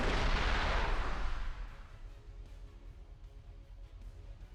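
In a combat video game, a Pantsir air defense system fires with a loud, broad roaring blast that fades over about two seconds into a low rumbling tail.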